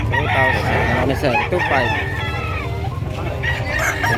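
Roosters crow and chickens cluck at a livestock market in San Carlos City, Pangasinan, loud and close, with someone talking prices over the birds.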